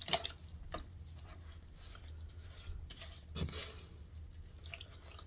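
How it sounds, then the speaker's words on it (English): Hands coated in wet stoneware clay are rinsed by a pottery wheel, with soft, faint drips and splashes of water over a low steady background hum and no talking. "Now, you wash my hands off here a little bit."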